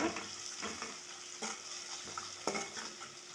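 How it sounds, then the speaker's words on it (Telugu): Curry leaves fry in a pan of chicken curry, giving a soft steady sizzle broken by a few sharp clinks and scrapes of a stirring spoon, fairly quiet and close. "కరివేపాకు చికెన్లో వేసాను"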